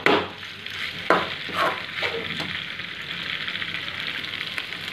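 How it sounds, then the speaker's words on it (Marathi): Pasta with tomato sauce is stirred in a pan. Close scraping strokes come in the first seconds over a steady sizzle that continues alone afterward. "थोडासा टोमॅटो सॉस याच्यावर टाकूया आणि मिक्स करून घ्या"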